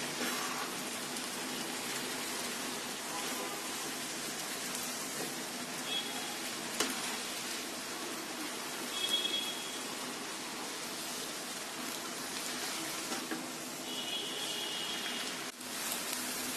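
Chicken tandoori noodles cooking in a pan, giving a soft, steady sizzle and crackle like light rain, low and even throughout with a few faint bumps, and no talking.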